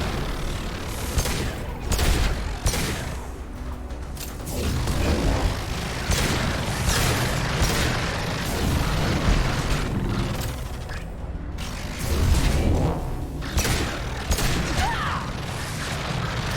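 Gunfire in the Mass Effect 2 Legendary Edition game comes in loud, repeated bursts of sharp shots and booms over a dense mix of combat noise for the whole span.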